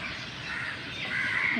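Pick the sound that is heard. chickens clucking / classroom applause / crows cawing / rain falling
crows cawing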